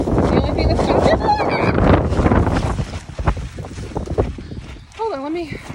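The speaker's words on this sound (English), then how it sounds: "The wind picked it up." Strong gusty wind roars across the microphone on a homestead, loud and buffeting for the first few seconds and then easing into intermittent gusts, with brief vocal sounds toward the end.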